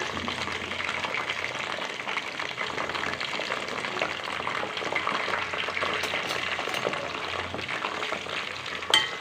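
Herbs for homemade hair oil fry in oil over a low flame, giving a continuous, even sizzle with light bubbling throughout, close by, and a small clink near the end.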